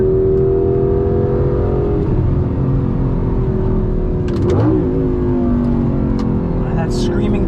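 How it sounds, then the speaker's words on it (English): An Audi R8's V8 engine revs hard on a race track, the pitch climbing and shifting through gears in a loud, steady mechanical drone, with someone talking over the engine noise. "That screaming V8."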